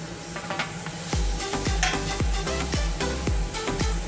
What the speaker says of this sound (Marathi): आता आपण एक ह्या भाज्या सगळ्या त्याच्यामध्ये टाकून घेऊया त्या फोडणीमध्ये.